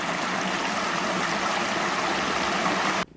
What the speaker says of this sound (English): it flows back from the other side of the river, back all the way down here through a couple of little waterfalls